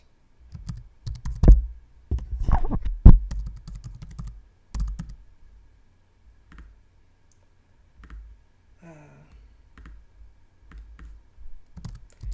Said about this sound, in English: Guess my typing today is not the best.